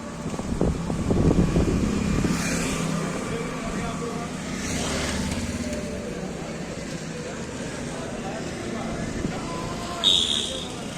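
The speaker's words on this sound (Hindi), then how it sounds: "फर्राटा भरती गाड़ियाँ" Vehicles speed past on a damp road near a temple and an office building, a broad rushing traffic noise with a couple of swelling pass-bys, under someone talking.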